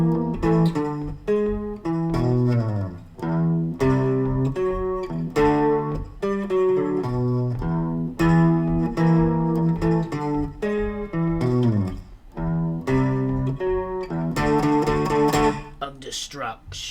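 Electric guitar plays the chorus of a song slowly, a steady run of sustained notes and chords filling the whole stretch, close and loud with no talk over it.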